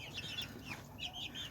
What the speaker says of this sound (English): she's a mini chicken